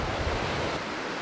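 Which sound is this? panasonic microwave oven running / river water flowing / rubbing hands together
river water flowing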